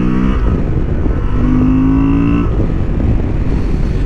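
Engine of a 2023 Honda XL750 Transalp motorcycle revs steadily on a racing track in sport mode, a loud continuous drone with the pitch climbing and then dropping as the throttle changes, no talking.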